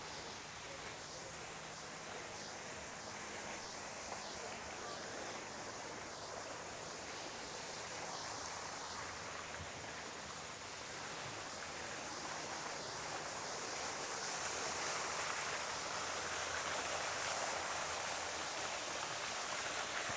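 Water running steadily along a rocky creek in a wooded garden, a continuous close rush of hiss and burble with no pauses, swelling a little louder in the second half.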